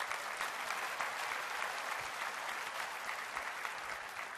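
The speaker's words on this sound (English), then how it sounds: "So give yourself a round of applause," Steady audience applause fills the hall at Apple's WWDC 2015 keynote, a dense, even wash of many hands clapping without a break and without talk.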